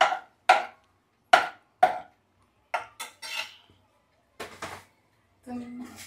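Garlic and salt are stirred in a pot while cooking pasta, heard as a series of sharp metallic clinks and scrapes of a spoon against the pot, spaced irregularly with silent gaps, alongside brief voice sounds.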